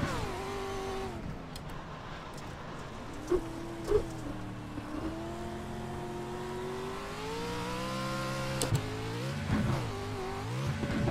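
Race car engine in iRacing, a Pro 2 truck at Crandon Short, revving steadily with rising and falling pitch as the throttle is worked, with a few brief upshift blips and thumps, loud and continuous with no talk.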